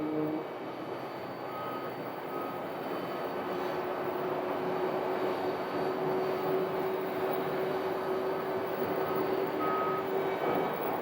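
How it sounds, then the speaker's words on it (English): A Boeing 737 MAX jet engine spools up at an airport ramp at Sky Harbor, a steady rising whine over continuous broadband roar, with a faint reversing beep from ground vehicles nearby; no talking. "And there's the engine start on the Max."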